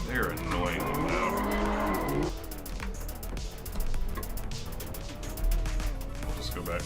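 Loud drift car engines roar with tires screeching and skidding, a sustained high squeal that drops off after a couple of seconds into rumbling motor noise.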